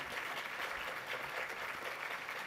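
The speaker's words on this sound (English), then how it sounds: "Let's give all of our city award recipients and presenters another big round of applause." An audience at the 2023 Poinsettia Awards gives city award recipients and presenters a round of applause. The steady, fairly faint clapping fills the room without a break.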